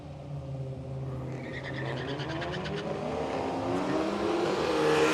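Drag race cars launching off the line at a road trip drag event, engines building from a rumbling hold into a rising, increasingly loud roar with climbing revs, heard from nearby without talk.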